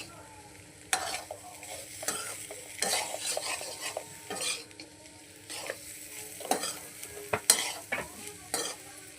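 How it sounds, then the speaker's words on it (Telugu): Paneer pieces fry in a pan for egg rice while being stirred, giving repeated scraping strokes of a spoon against the pan over a soft continuous sizzle, close up and fairly quiet. "ఇప్పుడైతే పన్నీర్ ముక్కలు ఇరిగిపోకుండా అయితే కలుపుకోవాలండి."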